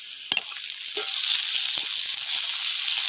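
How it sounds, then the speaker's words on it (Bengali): Onions and green chilies sizzle in hot oil with a loud, dense hiss, and a few soft clicks from a spatula at the start punctuate the steady frying noise. "পেঁয়াজটা একটু লাল করে ভেজে নেব"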